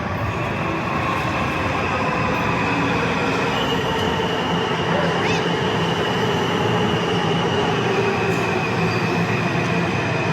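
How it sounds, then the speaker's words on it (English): A Washington, D.C. Metro train rumbles loudly and continuously close by, with wheels screeching and squealing against the rails as it pulls into a station. "Here comes the metro."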